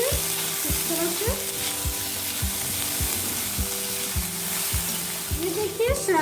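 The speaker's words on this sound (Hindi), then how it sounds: "ये देखिए, सोयाबीन को हमने पलट के अच्छे से फ्राई कर लिए।" Soybean chunks frying in oil in a kadai, a steady dense sizzle close up, with regular spatula scrapes and clinks every half second or so as the chunks are turned.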